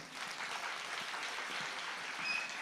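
At an anniversary celebration of a music academy, an audience claps in a steady, even burst of applause, moderately distant and sustained throughout.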